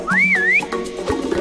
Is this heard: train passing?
no